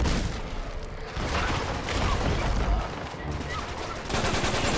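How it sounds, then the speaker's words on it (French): Rapid gunfire and explosions from the video game Uncharted 3, continuous and dense, with bursts layered over a busy game soundtrack. "Je tire partout sauf le poteau."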